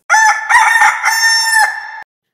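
A rooster's cock-a-doodle-doo sound effect on a Telugu women's game show, one loud, close crow lasting about two seconds and heard on its own.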